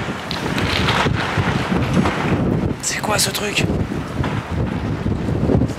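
Strong gusting wind roars steadily in a heavy sandstorm on an Algerian road during a motorcycle trip, buffeting the microphone continuously, while someone speaks briefly over it.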